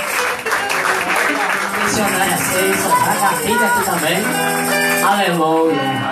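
A church congregation claps steadily through a lively worship song, the dense handclaps blending under loud music and singing at a men's service.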